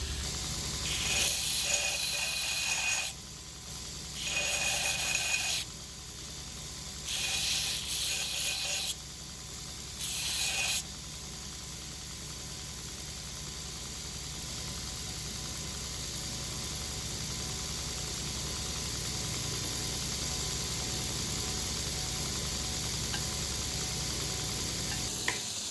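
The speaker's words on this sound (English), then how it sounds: "I need to sharpen this thing down so that these are like chisels" A leather pricking iron's teeth are sharpened into chisel points, giving several bursts of bright scraping and grinding in the first ten seconds, then a steady low hiss.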